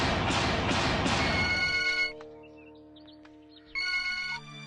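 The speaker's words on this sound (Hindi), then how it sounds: "इतनी देर से फोन क्यों नहीं उठा रहा था?" A telephone rings loudly in a Hindi action thriller film, with a bright repeating ring that stops, a brief quiet pause with faint clicks, then another short burst of ringing.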